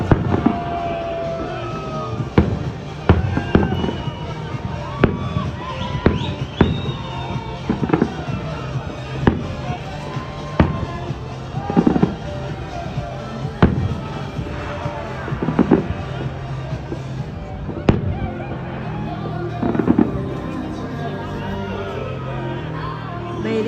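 New Year's fireworks bursting over a beach in the Bahamas just after midnight, a steady series of sharp booms and crackles at varying distances, loud and continuous, with faint crowd noise and occasional voices underneath.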